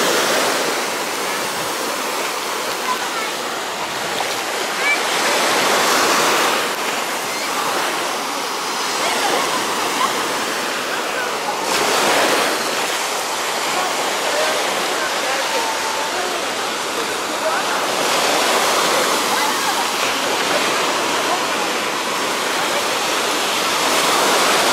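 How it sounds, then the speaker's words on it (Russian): Small sea waves wash continuously onto a beach in Alanya, Turkey, a steady loud broadband surf with gentle swells and no pauses. "Вот они, волночки небольшие"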